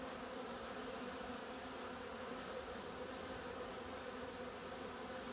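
Honey bees buzzing on a hive frame during a spring colony inspection, a constant, dense droning hum with no voices, steady and fairly faint.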